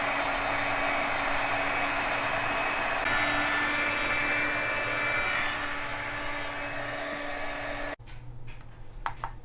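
A heat tool blows a steady, loud whirring hiss while drying embossing powder on a handmade Halloween card, running continuously for several seconds before cutting off, followed by a few faint taps and rustles.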